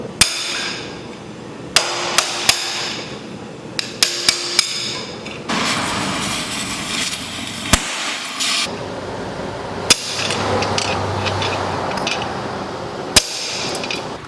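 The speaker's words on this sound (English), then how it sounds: "He's gonna go in with hammer and chisel to actually get the rest of it off." A hammer drives a chisel against a partly cut exhaust downpipe on a 2006 Subaru STI, sharp metallic blows landing irregularly, sometimes in quick pairs, close by over a steady hiss of background noise.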